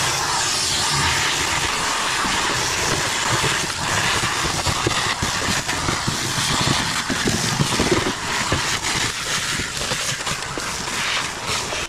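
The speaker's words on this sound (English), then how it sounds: "So I've got the vacuum, let's get it vacuumed up." A vacuum cleaner roars continuously and loudly while cleaning out the interior of an old barn-find classic VW Beetle, its steady whooshing drone shifting slightly as it moves.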